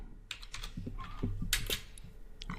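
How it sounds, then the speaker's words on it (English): Someone types on a computer keyboard up close, quick irregular clusters of key clicks with short pauses between them, and no talking. "So in between the tag, I'll type in my title."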